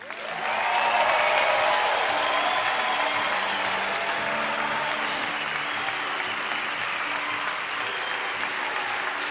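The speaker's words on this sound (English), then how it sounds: "Please give a round of applause to Rosetta." A large audience at a restaurant awards ceremony in Valencia bursts into sustained applause, dense steady clapping that swells quickly and holds at full strength throughout.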